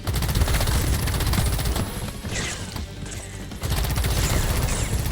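Rapid machine gun fire in the Pax Autocratica video game, loud dense bursts that drop out briefly near the middle and then return at full force, with no voices.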